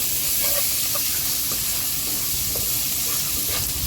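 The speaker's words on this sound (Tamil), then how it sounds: "அப்புறமா நம்மளுக்கு சாப் கிரேவிக்கு தேவையான ஆனியன் போட்டு நல்லா வதக்கி" Onions frying in a pan for a Kerala-style prawn biryani gravy, a constant loud hissing sizzle with soft stirring scrapes, close up and without talk.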